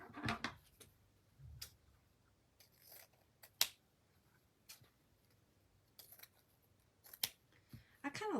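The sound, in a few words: scissors cutting down craft material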